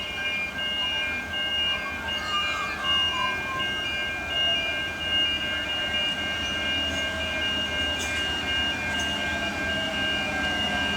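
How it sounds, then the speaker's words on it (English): A 3-carriage train standing at a station beside the Queen Street level crossing, a continuous low rumble with steady high-pitched tonal whines and squeals, plus brief metallic clicks, heard close and alone. "This particular train is a 3-carriage train."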